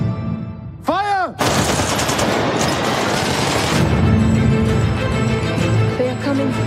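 A film scene erupts in gunfire: a rising whoosh, then a loud sustained burst of rapid machine-gun shots for a few seconds, fading into rumbling aftermath.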